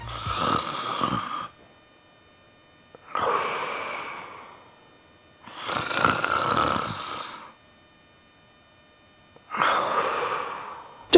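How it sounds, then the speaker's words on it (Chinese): Loud, close snoring in long rasping breaths separated by silent pauses, the later breaths coming as harsh gasping inhales. "如果咱们的呼噜声是"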